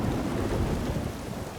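Heavy rain pours down in a steady, dense roar over a cliff face, with a low rumble of thunder blending into the downpour, no voices present.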